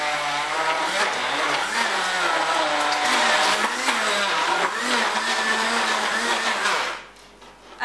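A blender whirs loudly up close, its motor pitch wavering as it chops a thick tuna and mayonnaise filling, then cuts off abruptly near the end.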